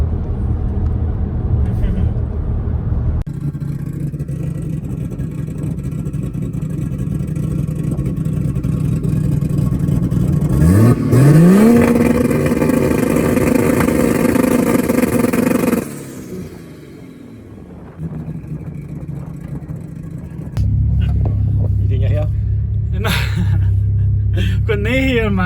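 A 4x4 VR6 turbo RX7 race car engine rumbles, then sweeps up through a rising rev and holds high before dropping away, loud and close inside the car, with low cabin drone around it.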